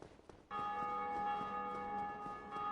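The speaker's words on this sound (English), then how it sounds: "I heard you ringing your bell." A sustained church-style bell from the Dark Souls video game starts sharply and keeps ringing with a steady, bright tone and harmonic overtones.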